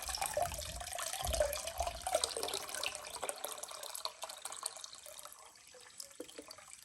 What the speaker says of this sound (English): with the water hose, we are spraying in the inside, so the clean side to the dirty side